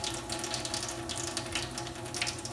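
Steady splashing liquid stream, continuous and fairly close, with a bright, hissy wash throughout and no talking.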